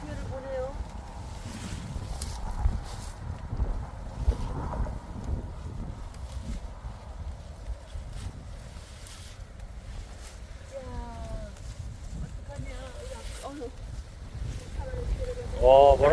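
Strong wind blows steadily across an autumn cabbage field with wind-damaged leaves, a continuous rushing roar buffeting the microphone, while a person talks intermittently over it.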